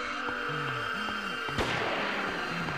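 Enemy gunshots in the horror game Siren: a single sharp, loud shot cracks out near the middle over a droning, tonal background with wavering hums.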